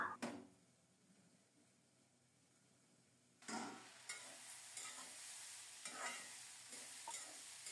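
Fish fry in a pan over low heat: a quiet sizzle with several scraping stirs of a spatula, faint and close, with no voices.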